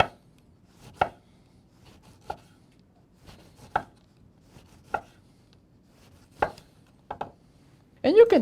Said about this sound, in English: So I'm gonna cut some lime to garnish my dish here.